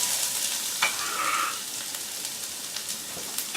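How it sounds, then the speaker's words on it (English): Garlic and shallots sizzling and crackling in oil in a hot pan, a steady frying hiss with a brief stir partway through, close and moderately loud. "You want to hear that sizzle. That way we know it's hot enough, it's cooking."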